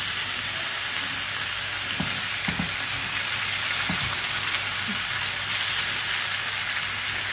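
Chicken frying on a tawa over low gas, a continuous even sizzle with a few soft knocks and scrapes from turning the pieces, close and steady throughout.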